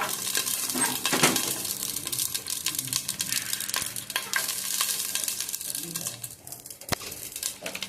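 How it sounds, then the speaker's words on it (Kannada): Onion and tomato frying in coconut oil for a Mangalore-style sardine curry, a continuous crackling sizzle with spatula scrapes and small metallic clinks against the pan, moderately loud. "ಈರುಳ್ಳಿ ಹಾಕ್ತೀನಿ ಟೊಮೆಟೊ ಎಲ್ಲ ಹಾಕ್ತೀನಿ ಸ್ವಲ್ಪ ಫ್ರೈ ಮಾಡ್ತೀನಿ"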